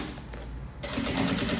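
A sewing machine runs a seam along the bottom of a roll-style fabric pencil case, its motor starting up partway through and then whirring steadily and close at a rapid stitching pace.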